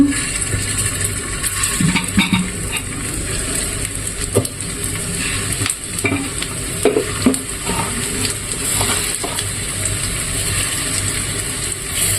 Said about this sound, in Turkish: Köfteleri de kızartacağım şimdi.